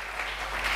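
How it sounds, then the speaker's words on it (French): A church congregation applauding, a steady wash of dense clapping that holds at an even level throughout a brief moment. "Acclamons très fort pour le roi des rois."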